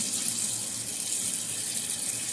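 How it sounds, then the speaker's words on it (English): Water gushes steadily from a tap over oily hands being rinsed without soap, a close, even hiss with no pauses and no voice over it. "let's try washing my hands just with water"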